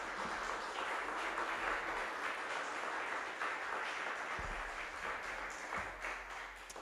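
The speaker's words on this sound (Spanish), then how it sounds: "Dale un aplauso al Señor" A church congregation claps for the Lord at the close of a Spanish-language service, a soft, steady wash of many hands that fades slightly toward the end.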